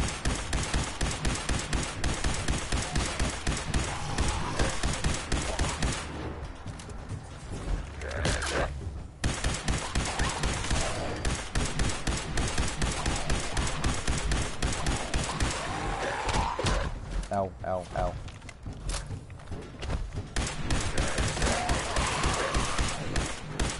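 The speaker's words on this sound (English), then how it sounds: "Laser rifle." A laser rifle firing rapidly at feral ghouls in a video game, a long run of sharp, evenly spaced zapping shots with brief pauses, loud and close over a low game background.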